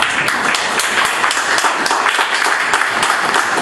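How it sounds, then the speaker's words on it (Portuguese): A church congregation claps steadily and loudly in praise, a dense continuous wash of many hands filling the room without a break. "Pode se sentar e louvar a Deus com as tuas palmas."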